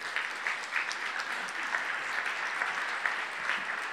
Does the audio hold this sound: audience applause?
yes